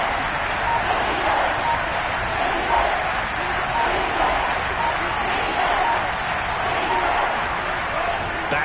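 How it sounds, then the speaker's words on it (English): Football stadium crowd before a big third down, a dense, steady roar of cheering and noise filling the whole stretch at an even loudness. "the crowd getting into it as we come up on a big 3rd down"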